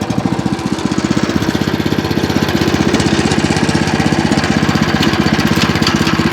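WEIMA WM900M-3 Deluxe walk-behind tractor with rotavators, its small engine just started and running loud and close, a fast steady thumping chug with even pulses and no talking.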